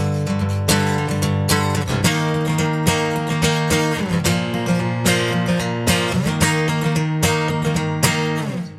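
Full, steady strumming of a song's outro chords, played on one guitar in a lower voicing, loud and continuous with no talking over it.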